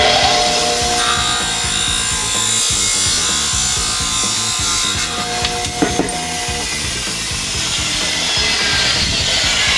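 Continuous loud rasp of a saw cutting half an inch off a golf driver shaft, a steady grinding back-and-forth stroke close up for about ten seconds, with no talking.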